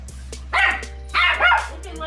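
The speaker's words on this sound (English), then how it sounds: "What you barking for?" A dog barks indoors in a few sharp, close barks with short pauses between them, over a steady low hum.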